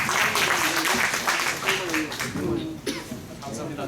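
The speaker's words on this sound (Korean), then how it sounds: "지회장이신 송희정 지회장님, 그 다음에 상사모 회장이신 김정태 회장님 함께해서 박수 한번 부탁드리겠습니다." Applause and scattered clapping from a crowd at a book launch policy concert fill the background while someone talks over it.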